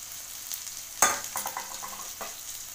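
Curry leaves and cumin seeds sizzle in hot oil as they are stir-fried, with a crackling burst and several scraping stirs of a spoon against the pan, close and clear with no voices.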